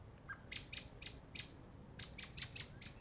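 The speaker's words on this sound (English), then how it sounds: "Can you hear this bird chirping?" Small bird chirps in a quick series of bright tweets during a morning bike commute, two short bursts of repeated calls heard clearly over faint road hum.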